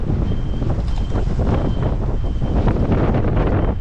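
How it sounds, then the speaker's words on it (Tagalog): Strong wind buffets the microphone in heavy rumbling gusts, loud and close, with a faint tonal whistle drifting through. "Sobrang lakas pa ng hangin din dito."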